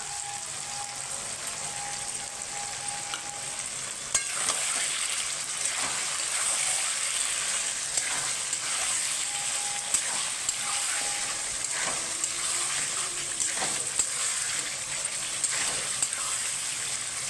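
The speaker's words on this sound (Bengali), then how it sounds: "এই টক দইটা দিয়ে এবার ভালো করে নাড়বো" Chicken with green chillies frying in a pan as sour yogurt is stirred in, a continuous bright sizzle with scraping stirring strokes and light splatter throughout.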